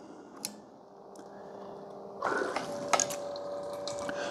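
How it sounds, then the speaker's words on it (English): A Hamilton Beach FlexBrew Trio 49904 coffee maker with a leaking-water fault runs its water pump while brewing: a low steady hum, then louder gurgling and splashing of liquid with a few sharp clicks and drips, close by, no talk. "So what's happening is this water pump is working. It is taking water out of the bottom of the reservoir."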